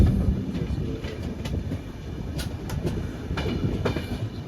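Somnath Express passenger train on the Ahmedabad to Bhopal run, heard from inside as a steady loud low rumble with rhythmic wheel clicks over rail joints and occasional sharp metallic squeals, no talking.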